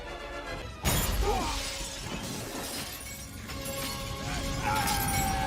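Glass shatters loudly in a scene from the science fiction series Stargate SG-1, a sudden sharp crash followed by several seconds of dense scattering shards and ringing debris.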